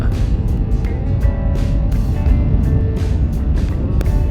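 A car driving down a desert road along Highway 78 through the Mezcal Bajada, with loud steady road and engine rumble heard from inside and occasional bumps and rattles.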